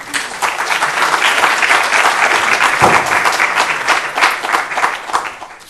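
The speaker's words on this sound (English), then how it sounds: "One last applause for Philippe." A loud, dense round of audience applause for a speaker at a networking conference session on large-scale WLAN deployments, sustained clapping from many hands filling the hall throughout.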